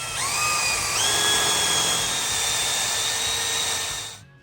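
A power drill drilling an aluminum profile whines steadily at high pitch, its tone rising slightly as it spins up, then cuts off sharply at the end.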